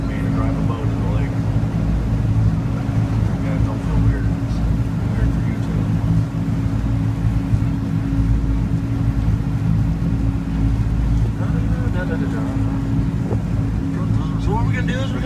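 An amphibious Ride the Ducks tour boat's engine drones steadily and loudly with a low hum while lake water washes around the hull in Seattle, and a person talks over it.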